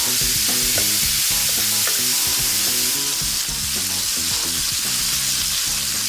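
Roasted red peppers sizzle and crackle loudly in a hot pan, a dense, steady frying hiss that runs unbroken with faint clinks and stirring noises layered on top.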